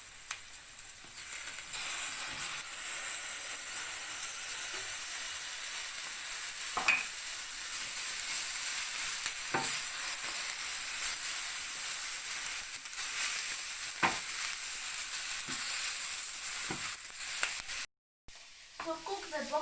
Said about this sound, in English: So cook the bok choy until it is wilted